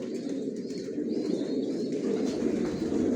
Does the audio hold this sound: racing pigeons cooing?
yes